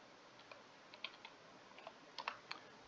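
Faint typing on a computer keyboard: scattered, uneven key clicks over a steady low hiss, with a brief burst of quicker taps near the end.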